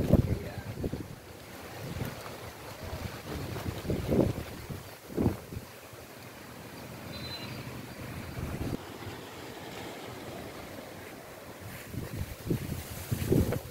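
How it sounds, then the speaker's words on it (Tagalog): Strong wind from a storm in Bohol, Philippines buffets and roars across the microphone in gusts, with a steady rushing background throughout and no voices. "Lakas ng hangin dito sa Bohol."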